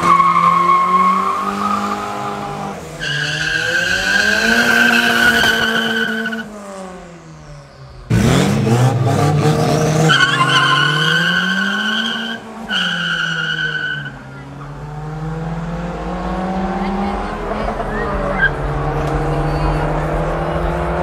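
Turbocharged Honda Civic and VW Golf drag racing on a Johannesburg street at night, engines revving hard through rising gear pulls with a sharp tire skid midway, loud and close throughout.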